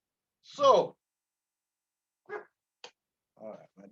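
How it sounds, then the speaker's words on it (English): Dogs give a few short barks and yips in quick bursts separated by silence, fairly close, with no talking over them. "my dogs are attracted by neighbors"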